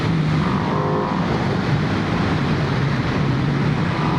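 A 2025 Ducati V2S motorcycle engine pulling hard on a test ride, a continuous loud droning roar with steady rumble and wind noise throughout, no pauses.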